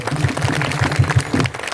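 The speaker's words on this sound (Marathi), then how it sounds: "टाळ्या वाजा त्यांच्याकडे" A crowd claps steadily at a kirtan gathering, with a patter of applause over a low droning musical accompaniment.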